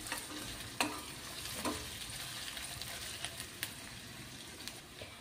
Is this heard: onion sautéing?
yes